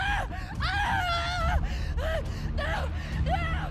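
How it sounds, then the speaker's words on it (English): An enemy in The Last of Us cries out in pain with strained, wavering howls and gasps, several bursts over a few seconds, loud and close over a low game background rumble. "using higher caliber weapons can sometimes sever the limb completely, causing the victim to let out a blood-curdling scream"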